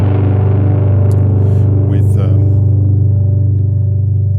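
A distorted electric guitar power chord rings loud and sustained as one thick, steady tone with a rock drive.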